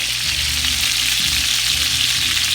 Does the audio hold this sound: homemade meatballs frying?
yes